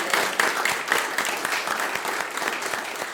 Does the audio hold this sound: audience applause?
yes